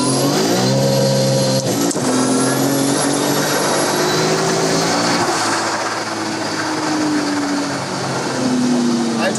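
A 1000 hp car accelerating hard in third gear on a race track, a loud, close engine roar with climbing harmonic tones and gear-change dips, under intermittent talk.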